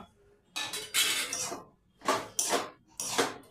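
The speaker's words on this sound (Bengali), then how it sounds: "আবারও খুন্তি দিয়ে ভালোভাবে এভাবে নাড়তে থাকবেন" A spatula stirs semolina upma in a pan, giving four close bursts of scraping and metallic clinking against the pan, with brief pauses between them and no speech.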